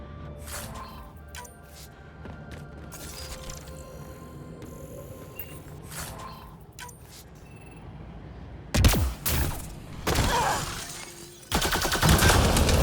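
Gunfire in Mass Effect Andromeda aimed at a Ket device: after ambient background, a few sharp shots ring out near the end, followed by a loud sustained burst.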